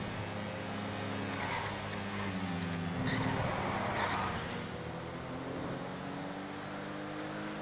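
Muscle car engine in the GTA FiveM driving game, a steady low drone with shifting harmonic pitch as it accelerates, swelling slightly midway and holding throughout.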